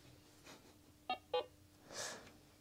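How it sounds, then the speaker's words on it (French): A talking liquid measuring jug gives two short, faint electronic beeps as it switches off in a quiet room, followed by a soft breathy rush of noise. "Voilà le petit bruit qui fait quand l'appareil s'éteint."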